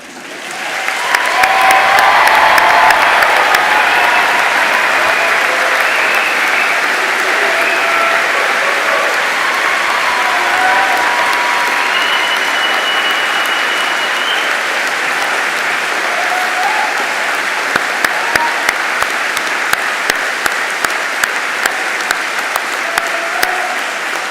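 A graduation audience at the Royal Veterinary College applauds standing veterinary nurses, a loud, sustained wash of clapping with faint cheers that swells early, carries on at length, then thins toward scattered claps.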